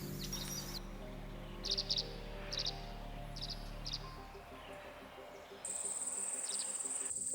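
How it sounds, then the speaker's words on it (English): Outdoors, insects buzz and chirp in a faint, steady background drone, with a few short bright chirping bursts scattered through and a louder high buzzing that sets in near the end. "I listen carefully to the buzzing bees, to the flight of dragonflies, and the song of birds."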